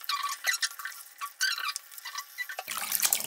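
Something rinsed under running tap water, a series of close, uneven splashes and swishing bursts, ending in a fuller, steady flow.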